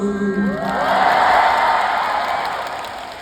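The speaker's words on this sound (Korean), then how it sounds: "박수." Concert audience at a singer's 2025 encore concert "Yours" cheers and applauds, a broad swelling wash of crowd noise that builds after a brief voice and then slowly fades.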